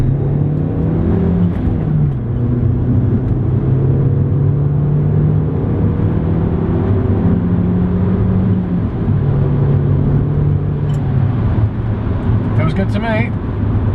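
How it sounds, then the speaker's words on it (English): An Audi S3 8L pulls hard in second gear, its engine note climbing steadily in pitch with a brief dip at a shift, loud and droning from inside the cabin with some road rumble and a short voice near the end. "Right, let's do a second gear pull."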